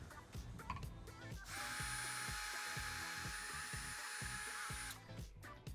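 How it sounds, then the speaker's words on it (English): Power drill driving screws through curtain track brackets into a ceiling, one sustained high whine lasting a few seconds, preceded and followed by short clicks and handling noises, close and fairly quiet. "use your drill to screw your brackets"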